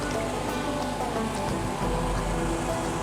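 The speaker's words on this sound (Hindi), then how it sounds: "अब ये बाकी आलू भी इसी तरह तल लेंगे।" Potato cutlets frying in oil over medium heat, a dense, steady sizzle and crackle that fills the whole stretch without pause, close and fairly loud.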